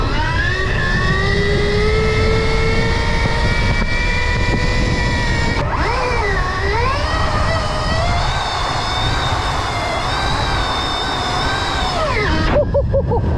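A Stark Varg electric supermoto, about 80 hp, accelerates hard with a loud whining motor tone that climbs in pitch, dips, then rises again over heavy wind and road rumble before cutting off near the end.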